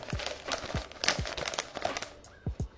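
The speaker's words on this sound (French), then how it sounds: "Je vais enlever le tabac du sachet pour mettre directement dans le pot." Dry, unglycerinated hookah tobacco crinkles and rustles as it is tipped from a plastic bag into a pot, with close crumpling bursts and soft thuds in an irregular rhythm, no talking.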